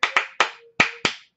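Five crisp solo hand claps land close and dry in a syncopated rhythm, each with a short decay and brief silences between them, part of an Old Joe Clark percussion solo.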